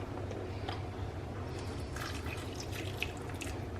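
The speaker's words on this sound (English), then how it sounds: "So then just water to cover." Water pours steadily into a cooking pot to cover a yachni stew, a constant close splashing trickle with a faint low rumble underneath and no speech.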